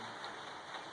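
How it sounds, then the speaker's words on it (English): Steady rain patters and hisses continuously, a dense even wash of drops on surfaces, fairly faint and distant. "The rain's getting heavier."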